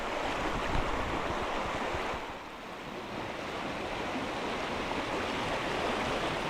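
Spring water gushes hard out of Roubidoux Spring into the creek after floodwaters retreat, a continuous, full rushing and churning roar close by, with a brief dip midway and no voices.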